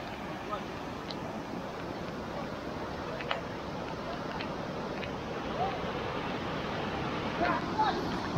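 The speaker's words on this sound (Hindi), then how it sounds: "पानी का फ्लो देखिए कितना है" Water rushes down a rocky monsoon stream near Vangani Waterfall in dense forest, a broad steady roar close by, with someone talking over it.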